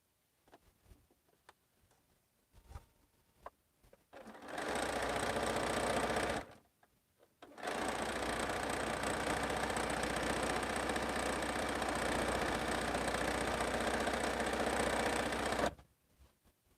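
A sewing machine stitches a quilt sample in steady runs, a short burst then a long continuous stretch of fast mechanical whirring with faint ticks in the pauses; no talking.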